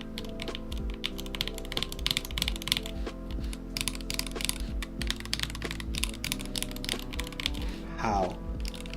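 Rapid, steady clacking of a full mechanical keyboard fitted with lubed Tealios switches, with close keystrokes tapping out in quick bursts throughout.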